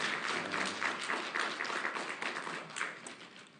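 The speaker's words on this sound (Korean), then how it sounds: "박수 한번 하시겠어요?" Church congregation applauding a returning deacon during a service, a steady wash of many hands clapping at moderate volume throughout, with no talk over it.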